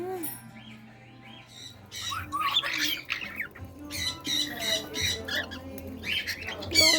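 Sulphur-crested cockatoos squawk in a busy bird store, harsh screeches repeating over a steady background hum, with a person talking softly at times.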